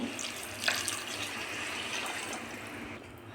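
Water pours steadily into a cooking pot of varagu millet rice for sambar rice: a continuous close splashing rush lasting about three seconds, with no talking.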